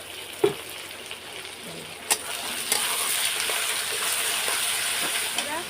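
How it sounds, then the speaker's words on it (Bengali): Ginger paste and chopped tomatoes fry in a pan as a continuous close sizzle, broken by a few sharp stirring clacks and scrapes, with a faint voice in the background. "আদা বাটাটাও দিয়ে দিয়েছি এটাও এখন কষিয়ে নেব ভালো করে আর টমেটোগুলোও দিয়ে দেবো"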